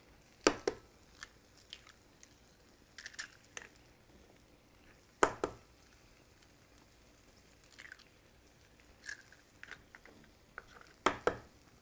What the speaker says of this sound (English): I like to just crack them and check them first.